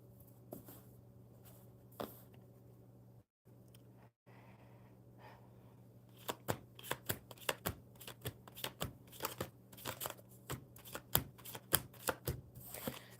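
Tarot cards being shuffled by hand: a quiet stretch of faint handling, then a rapid run of crisp, close riffling snaps and flicks that repeats in quick bursts over a steady low background hum.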